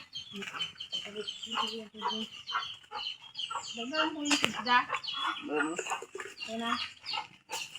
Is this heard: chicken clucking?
yes